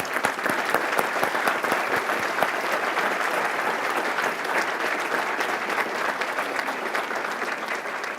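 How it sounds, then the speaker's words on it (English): Audience at an engineering graduation ceremony gives a sustained round of applause, dense steady clapping from a sizable crowd that fills the room throughout. "Let's do one more round of applause for these great graduates."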